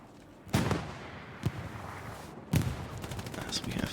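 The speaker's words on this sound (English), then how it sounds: "we have some rockets being fired there" Rockets fire in the Hell Let Loose war game, sharp bursts landing at about half-second, one-and-a-half and two-and-a-half seconds over a rumbling battlefield backdrop, with a faint voice nearby.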